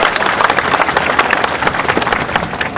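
A rally crowd claps in welcome, dense continuous applause from many hands filling the space loudly and evenly throughout, with no speech on top.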